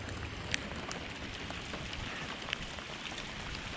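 Steady rain falls outdoors as a continuous hiss with a couple of faint drop ticks, alone with no voices.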